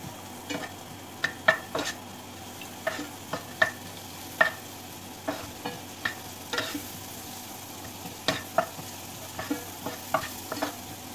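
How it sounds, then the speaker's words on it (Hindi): Chopped onions frying in a pan while a spoon stirs them, soft steady sizzle broken by frequent sharp scraping clicks of the spoon against the metal, close and fairly quiet, no voices. "इसमें हम ये प्याज डाल देंगे, और प्याज को अच्छे से भून लेंगे।"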